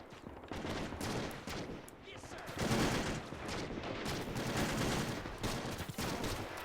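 Sustained battle noise from a WW2 Battle of Saipan video game: dense, continuous gunfire and crackling fusillades with heavier mortar thumps swelling in the middle, loud throughout with no gaps.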